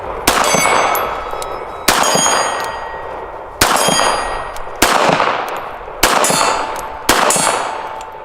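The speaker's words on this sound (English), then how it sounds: "let's take a look at how this gun has shot" Six sharp, loud Smith & Wesson M&P 380 Shield EZ pistol shots ring out one at a time at roughly one-second intervals, each a bright crack followed by a metallic ringing decay.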